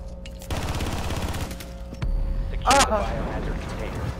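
Gunfire in Rainbow Six Siege, bursts of rapid shots from the game mixed with a louder blast, while players talk over the action.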